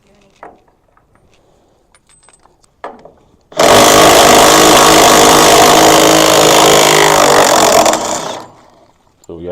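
A loud power tool, likely an impact wrench, runs in one continuous burst of about four seconds while removing a bolt on a truck, with brief clanks before it and quiet between.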